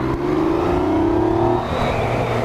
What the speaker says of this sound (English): From second gear, I'll do a complete pin of the throttle.